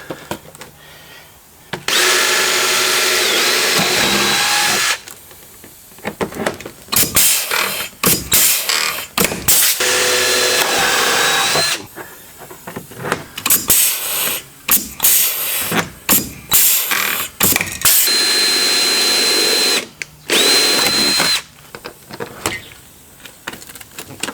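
Power tool work on a car's front panel during repairs after Tamworth Speedway: repeated short bursts of close drilling separated by brief pauses and clunks, with a few sharper metallic snaps.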